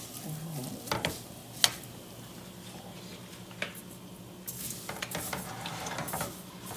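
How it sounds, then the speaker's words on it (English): Fideo pasta being stirred while it browns in a pan: soft scraping and clinking of a utensil against the pan, with a few sharper knocks and light sizzling throughout. "you have to make sure and keep stirring your fideo"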